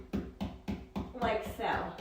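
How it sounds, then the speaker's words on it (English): Stencil brush stippled against a wall gives a run of soft, evenly spaced dull taps, about four in a row, close by and fairly quiet, with a rustling scrape following. "I'm just gonna do a stippling effect, which is hitting the wall"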